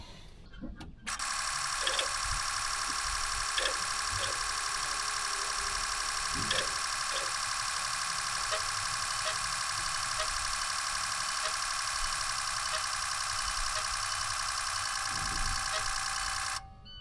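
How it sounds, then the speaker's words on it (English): A steady electric whirring hum runs for about fifteen seconds with faint ticks scattered through it, then cuts off. "I believe that sound was the fuel pump cycling."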